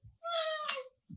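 A house cat cries with a single plaintive meow, faint and somewhat distant, with a brief soft noise before and after it and no talking.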